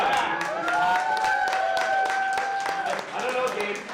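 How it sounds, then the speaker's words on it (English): Audience applause at a live archaeology podcast recording in Canmore: dense, steady clapping from a crowd that keeps going for several seconds, with a few whoops and voices mixed in. "Can we get a round of applause for anyone who's planning to go to PEI and for Christian Thériault?"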